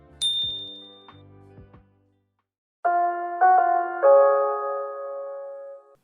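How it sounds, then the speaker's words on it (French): A bright single ding rings out, followed by short clinking taps, a pause, then a two-tone ding-dong chime that rings and fades. "Avec la petite cloche là."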